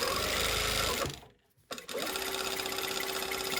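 A sewing machine runs steadily while understitching a slot zipper, its fast even whir briefly stopping for about half a second before picking up again at the same close, loud pace.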